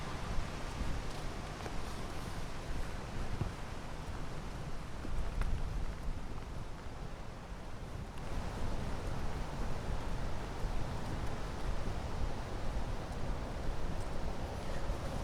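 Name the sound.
wind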